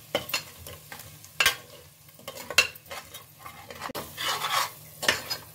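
Spiced masala with yogurt browning in a pan on low flame for egg biryani, with a soft sizzle beneath repeated spoon scrapes and clinks against the pan, close and intermittent, no talking.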